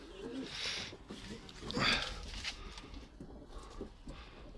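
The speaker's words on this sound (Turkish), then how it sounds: "Şöyle kuşları bir çekelim havalandıralım dedim." Domestic tumbler pigeons coo softly in a loft as they are readied to fly, with faint wingbeats and shuffling around them at moderate distance.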